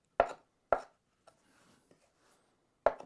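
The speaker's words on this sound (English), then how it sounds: "Just a rough chop." Herb stems are roughly chopped with a knife on a board: three sharp, close knocks spaced unevenly, with faint handling noises in between and otherwise quiet surroundings.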